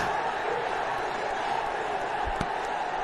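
A cricket stadium crowd roars in a steady, broad wash of cheering after a six, loud and sustained with no distinct breaks.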